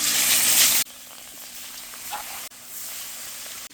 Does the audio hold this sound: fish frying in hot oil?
yes